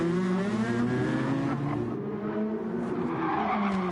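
Tires squeal and skid over a steady high-revving race car engine in a sim racing game, the whine sustained and loud for several seconds.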